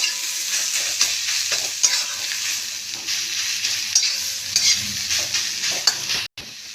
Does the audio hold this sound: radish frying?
yes